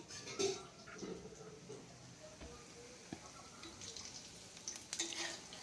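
Punugulu batter fries in hot oil with a soft, steady sizzle and a few light bubbling pops, heard close and alone.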